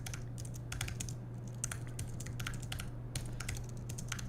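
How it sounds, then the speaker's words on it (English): Fingers type steadily on a computer keyboard, a quick uneven patter of clicky keystrokes with brief pauses, heard close over a low constant hum. "I'm gonna type that out because that's really important."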